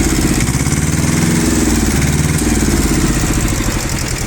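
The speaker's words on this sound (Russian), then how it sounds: "слышно, что двигатель работает как двухцилиндровый, но при этом максимально ровно и максимально хорошо, без лишних призвуков" A Japanese two-cylinder mini tractor engine fitted with a rotary tiller runs loud and close, a steady low throbbing idle that rises into a brief rev partway through before settling again, with no voices.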